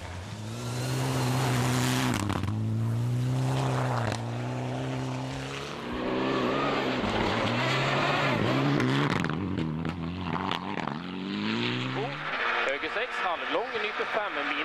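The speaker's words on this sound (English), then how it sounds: "So Shim Palangi, the Estonian in his Mitsubishi Lancer Evo, is going strong on stage 2 and 3" A Mitsubishi Lancer Evo rally car races through a stage of the 2015 ERC Rally Liepāja. Its engine revs rise and fall sharply through repeated gear changes, loud and close, before easing into quicker, choppier bursts near the end.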